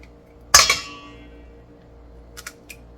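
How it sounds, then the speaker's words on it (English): Eggs going into a bowl of salmon croquette mixture, with one bright clink of shell against the bowl, a short ringing tail, then a few faint taps and knocks. "Go ahead and add my eggs."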